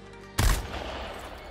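Gunfire in the Bloodhunt video game on PS5: one sudden loud burst of shots, close and punchy, then a fading noisy tail, with no talking over it.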